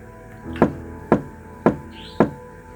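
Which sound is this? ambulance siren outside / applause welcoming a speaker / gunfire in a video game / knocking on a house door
knocking on a house door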